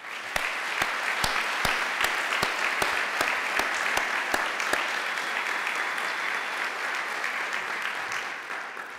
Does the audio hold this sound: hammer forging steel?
no